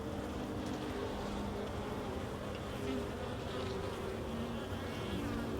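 Honeybees buzz in a steady, dense drone around an open Layens horizontal hive, many wings humming together up close with no pauses or voices.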